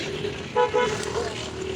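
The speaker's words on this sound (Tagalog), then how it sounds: "Ayan, mga sasakyan." Road traffic passes along a street with a short car horn toot over a steady motor hum, the horn a brief tonal blast near the middle.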